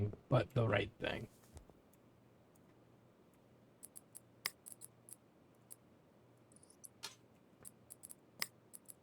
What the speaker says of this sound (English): Clicking on everything but the right thing.